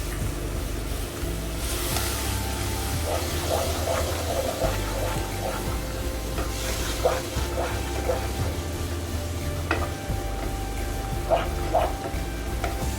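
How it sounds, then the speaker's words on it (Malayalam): Vinegar poured into a pickle pan for beef pickle and left heating, a steady watery rush and low bubbling throughout with faint clinks, at a moderate level and with no talking. "1/2 മുതൽ 3/4 കപ്പ് വരെ വിനീഗർ ഒഴിക്കാം"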